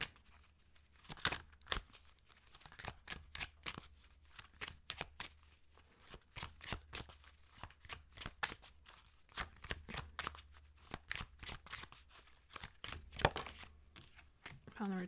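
Tarot cards are shuffled in rapid bursts of crisp riffling and slapping, repeated across the stretch with short pauses between, close and clear, with no talking over it.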